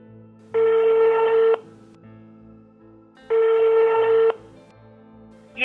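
A telephone ringing with no answer: two long electronic rings about three seconds apart, each lasting about a second, clear and close against a quiet background.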